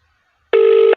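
A phone call is dialed and rings back: one short electronic tone, loud and steady for under half a second, sounds after silence and stops cleanly.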